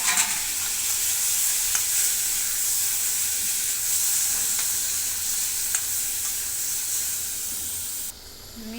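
Turmeric and salt fry in a hot pan, giving a steady, loud sizzle with a bubbling hiss, broken by occasional stirring scrapes, until the sizzle drops off sharply near the end.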